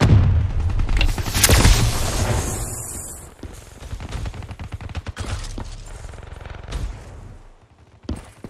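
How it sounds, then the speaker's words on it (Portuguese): A grenade blast in Black Ops 3 multiplayer, a loud, close boom near the start that rolls off, followed by scattered gunfire and impacts that fade toward the end. "Granada! Cubram-se!"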